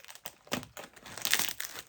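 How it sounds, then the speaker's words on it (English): A plastic bag package bound in tape being unwrapped, a couple of seconds of quiet, close crinkling and rustling in irregular bursts. "it's like a plastic bag that's been wrapped in tape."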